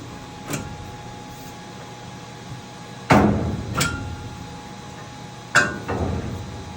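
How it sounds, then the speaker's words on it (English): Three sharp metallic clicks of pins releasing from a 4UP standard master frame for a Saati 8012 HD, spaced a few seconds apart, each followed by a quick second snap, close by in an otherwise quiet space. "You'll hear the pins release."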